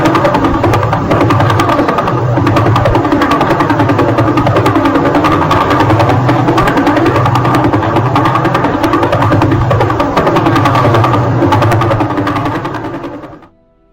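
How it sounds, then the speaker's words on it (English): Emissions from the Vela pulsar converted into audible sound form a loud, steady, rapid mechanical pulsing, a dense regular throb with buzzing overtones, running continuously before fading out at the end. "a French musician converted emissions of the Vela pulsar from official NASA data into audible sound"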